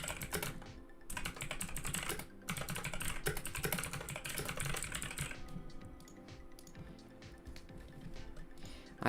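Rapid typing on a computer keyboard sounds as a dense, steady run of close clicking keystrokes that thins out toward the end, with no talk over it.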